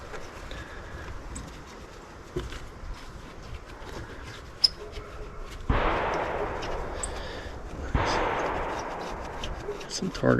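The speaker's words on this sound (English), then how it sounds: "Some target practice over there" Distant gunshots from outdoor target practice sound as a few faint, muffled reports. Two sharper shots stand out over quiet outdoor background noise.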